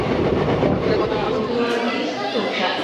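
A loud, steady rumble of a moving overnight train to New Jalpaiguri fills the clip, with people chattering close by over the continuous rolling noise.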